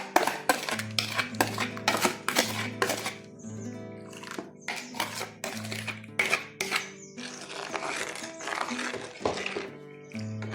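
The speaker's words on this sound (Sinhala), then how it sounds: "මේ ටික එකතු කරගත්තාම නොනවත්වාම මේක හැඳි ගන්න ඕනි." A spoon stirs kurakkan porridge in a metal pot with rapid, repeated clanks and scrapes against the sides, close and fairly loud, with a low hum beneath and brief pauses between bursts of stirring.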